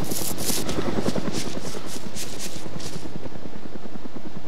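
A helicopter in an Arma military game passes close and loud, its rotor thumping in a fast steady rhythm that fades slightly toward the end.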